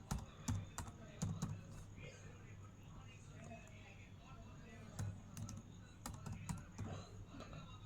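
Rapid, irregular clicking of keys on a computer keyboard, fairly close, with a low steady hum underneath.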